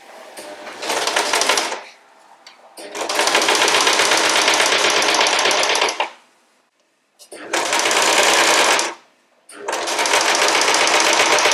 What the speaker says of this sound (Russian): Я отступаю от края 1 сантиметр и начинаю прокладывать строчку.